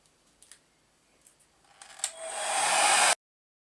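A heat gun blows on a Tamiya Dark Impact DF-03 RC car body to soften a sharp bend. A few light clicks come first, then a steady airy roar swells loud and cuts off abruptly.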